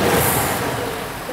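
Older car engine revved hard and running rough with a misfiring cylinder, a loud, dense, uneven roar filling the short burst close up.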